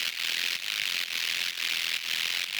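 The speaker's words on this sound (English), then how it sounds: "we have very distorted sounds to make this powerful distorted bass" Heavily distorted synth bass, harsh and noise-like, with pitch barely discernible, pulsing in a steady repeated rhythm of roughly half-second bursts, loud and alone.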